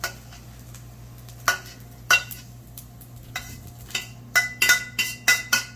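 Bacon fried rice with stir-fried veggies is scooped from a frying pan into a bowl, with a run of distinct scraping and clinking strokes against the pan over a soft background hum, several quick ones bunched near the end.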